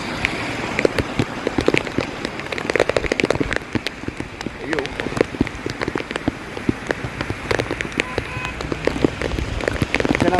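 Heavy rain pours steadily on surfaces at Misty Point in Valparai, a dense continuous hiss broken by scattered loud drop impacts throughout, close and enveloping with no clear voice.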